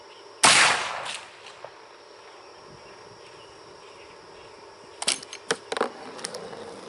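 A Martini Henry 577/.450 rifle fires one sharp, loud shot that rings briefly before fading into a quiet background of chirping insects. A few softer clicks and knocks from handling the rifle follow a few seconds later.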